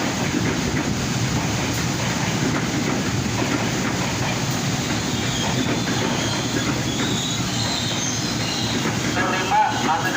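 Indonesian commuter train rolling into Tanah Abang station: a steady, loud rumble of wheels on track with faint squeals and rattling carriages, continuous throughout.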